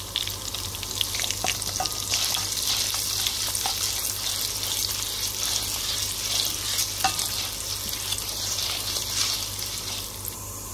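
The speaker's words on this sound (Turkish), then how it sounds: "Şehriyeler pembeleşinceye kadar kavuruyoruz." Vermicelli is stirred and roasted in a pan with a steady, close sizzle, broken by scraping stirs that come and go across the whole stretch without any talk.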